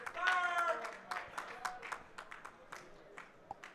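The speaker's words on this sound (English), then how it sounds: "Clapping it up for our boys." Scattered clapping from an esports tournament audience at an Ultimate Marvel vs Capcom 3 event, a few hands at a time, with cheering voices mixed in and the claps thinning out toward the end.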